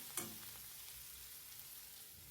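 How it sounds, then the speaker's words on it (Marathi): Red chili powder sautés in hot oil with a continuous sizzle and a brief stir at the start, steady and close with no voices. "लाल तिखट पण आपल्याला तेलावर छान परतून घ्यायचे"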